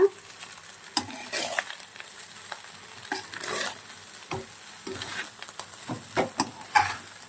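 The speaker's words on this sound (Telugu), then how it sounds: "హై ఫ్లేమ్లోనే ఉండాలండి రైస్ అంతా బాగా ఫ్రై అవ్వాలా" Paneer fried rice, with lemon squeezed over it, fries on a high flame and gives a close, continuous sizzle, broken by repeated scraping stirs and sharp clinks of a utensil against the pan, with no talking.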